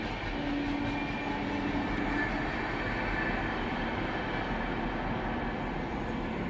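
A steady, continuous rumble of a train passing at a distance, broad and even throughout with no voices.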